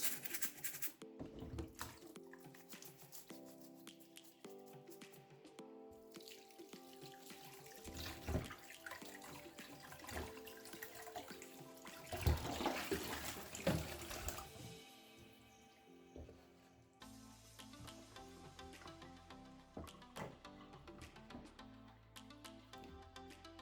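Bitterleaf being scrubbed with a brush under running tap water for soup, a steady splashing stream with intermittent scrubbing and clattering, close and fairly quiet, no voices.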